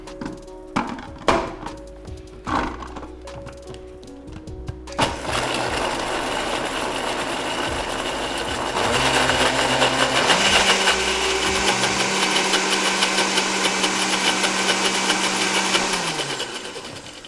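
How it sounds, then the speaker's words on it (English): After a few clinks and knocks, a blender motor starts loud and whirs steadily, blending leaves into oil, its pitch shifting as it runs continuously. "blend it for a minute and then scrape the sides down"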